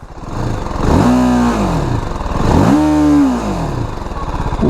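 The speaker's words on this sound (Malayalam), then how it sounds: "ഞാൻ R R three ten start ചെയ്ത് നിർത്തിയിട്ടുണ്ട്" A TVS Apache RR 310 motorcycle engine idles close by, rumbling steadily and rising in pitch twice as the throttle is blipped.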